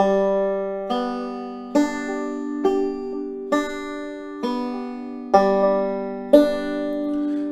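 Solo banjo picking a forward-backward roll at a slow, even beginner pace, a bright plucked note every second or so ringing over sustained open strings, close and clear with no talking.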